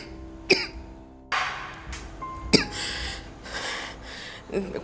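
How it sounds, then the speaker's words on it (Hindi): A few separate coughs and throaty hacks close up, spaced irregularly, with some breathy rasping between them and no talking. "ये अचानक तुम्हें खांसी क्यों हो गई?"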